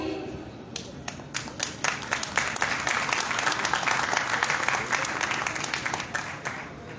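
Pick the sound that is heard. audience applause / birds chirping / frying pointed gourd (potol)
audience applause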